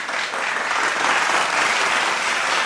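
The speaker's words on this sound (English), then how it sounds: "Let's welcome him with our virtual clap." Applause at an online meeting, a steady wash of many hands clapping at moderate loudness, sustained without talk for the whole stretch.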